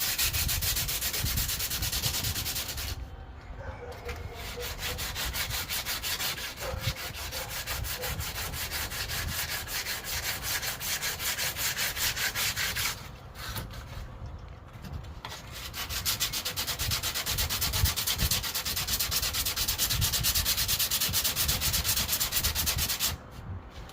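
Sandpaper rubbed by hand over the trunk jamb of a 1991 Honda CRX build, a steady close rasping scrub that continues for long stretches with a few brief pauses, no voices.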